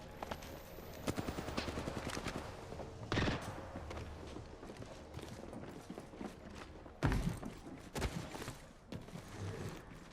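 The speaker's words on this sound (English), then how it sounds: "Taking fire. I'm getting shot." Video game gunfire hits the player in a few quick bursts, with sharp cracks near the middle and later on over a low, busy background of mechanical clatter.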